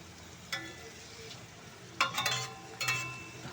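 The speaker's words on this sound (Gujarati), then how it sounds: "અને હવે આપણે એને સડવા દઈશું ઘડીક." Chopped onions fry in hot oil for bumla chutney, close by: a soft, steady sizzle broken by a few louder bursts as the pan is stirred.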